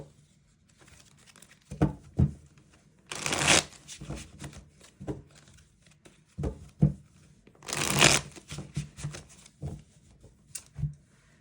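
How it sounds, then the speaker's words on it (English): Tarot cards are shuffled up close in repeated bursts, with soft riffling patter broken by two louder, longer rushes of cards sliding together, and no voices. "Virgo, let me shuffle real quick"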